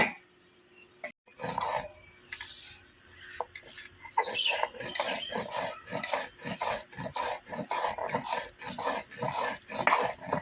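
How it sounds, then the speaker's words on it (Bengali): Spices are ground on a stone shil-nora slab with steady, repeated rasping strokes at close range, rubbing back and forth in a regular rhythm. "ভালো করে বেটে নেবে শিলনোড়ায়।"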